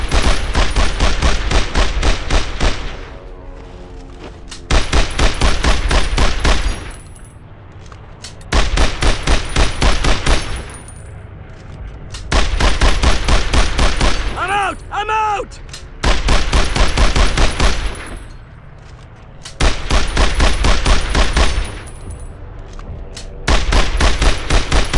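World War II combat in Brothers In Arms: Earned In Blood, loud sustained bursts of rifle and machine-gun fire in repeated volleys separated by short lulls, with shouted voices between.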